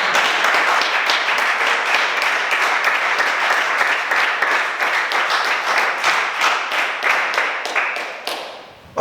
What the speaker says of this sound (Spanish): Aplauda el nombre.